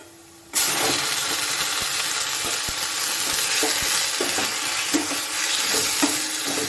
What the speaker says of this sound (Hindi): अब इसमें मैं अदरक लहसुन का पेस्ट डालूंगी।